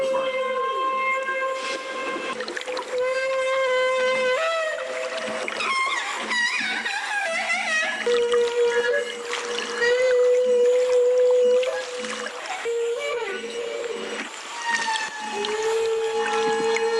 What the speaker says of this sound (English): That was the sound of them actually exuding the bubbles.